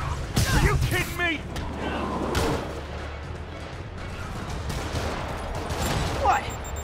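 Rockets fire in Marvel's Spider-Man Remastered, a loud, dense barrage of blasts and explosive bursts filling the scene, with voices talking over the continuous rumble.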